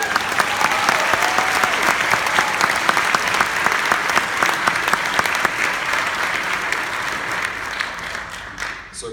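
Sustained audience applause for high school region band students, dense and steady throughout and fading slightly at the very end.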